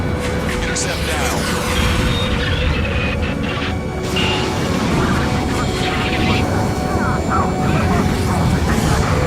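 Jet fighters roaring in a video game dogfight, a dense steady engine rumble and whine filling the whole stretch with brief crashes, loud and close under radio chatter.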